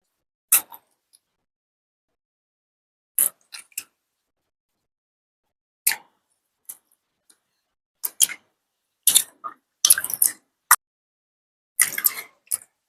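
Tomatoes and spices squeezed by hand in tamarind water for village-style rasam, giving scattered wet squelches and drips, sparse at first and then more frequent, close up.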